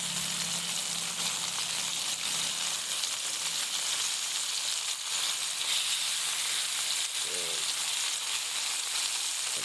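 Wahoo medallions sizzle steadily in a hot pan, a constant bright frying hiss with a faint low hum and a brief clink partway through.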